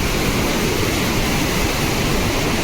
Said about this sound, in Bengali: কত স্পিড জলটা নামছে দেখুন পুরা। এলেনে এত স্পিড জল ছেড়ে দিয়েছে দেখতে পাচ্ছ